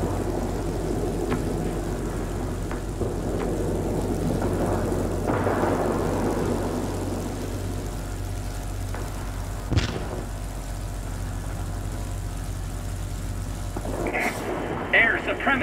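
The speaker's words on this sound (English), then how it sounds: "The storm is too heavy." A heavy storm roars in World of Warplanes, with a steady, dense rumble of rain and engine drone throughout, a single sharp thunder crack near the middle, and a few brief bursts near the end.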